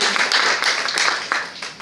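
Applause from a talk-show audience, a dense, steady wash of clapping that fills the short moment at fairly close range, with no talk over it.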